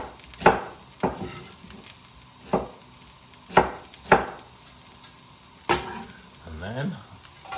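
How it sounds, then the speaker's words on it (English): Garlic and cubed onion sizzle in a hot wok while a utensil strikes and scrapes it several times at uneven intervals, sharp clacks over a steady frying hiss. "first of all, the garlic. I get it sizzling."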